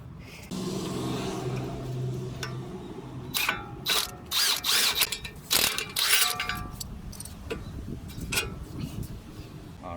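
A ball joint separator works the outer tie rod free from the spindle on a Mercedes ML350, with a low hum giving way to a run of sharp metallic clicks, knocks and ratcheting clatter close by.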